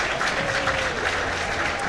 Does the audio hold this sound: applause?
yes